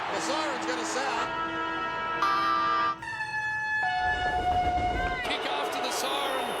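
A football stadium siren wails in long sustained tones that shift pitch partway through, ringing out over a roaring crowd in heavy rain at the end of a game, with excited commentary running underneath.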